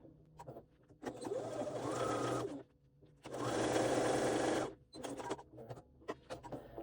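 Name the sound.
sewing machine basting a seam with a long stitch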